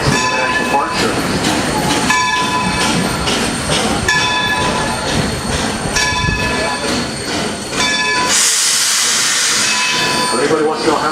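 A steam locomotive, engine 26 at Steamtown in Scranton, Pennsylvania, rumbles and clanks steadily close by, then a loud rush of hissing steam bursts out near the end.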